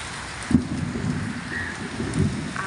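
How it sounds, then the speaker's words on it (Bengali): Heavy rain pours steadily and close, with low rumbles of thunder rolling beneath the downpour, one louder thump early on and another swell near the end. "আকাশে বিদ্যুৎ চমকাচ্ছে, আবার বৃষ্টি নেমেছে। অঝোরে বৃষ্টি পড়ছে।"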